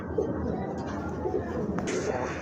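Kagoji pigeons cooing softly from a cage amid a low murmur of background noise, short throaty calls repeated at close range.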